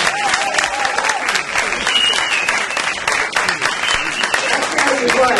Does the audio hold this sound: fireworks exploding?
no